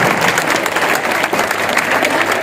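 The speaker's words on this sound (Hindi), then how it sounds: "तालियों के साथ उनका हार्दिक अभिनंदन" Dense, steady applause from an audience at a school event held by the BSF, honouring a martyred soldier from Laxmangarh in Sikar. The clapping is loud and continuous throughout, with faint crowd murmur underneath.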